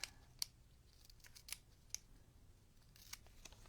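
Scissors cut paper for a handmade junk journal in a quiet room, giving several sharp, crisp snips spaced irregularly over a few seconds at a soft level.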